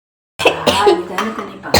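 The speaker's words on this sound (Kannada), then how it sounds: "ಕೆಮ್ಮು ಬರ್ತಿದೆ" A person coughs close to the microphone, with several rough bursts in quick succession after a moment of silence.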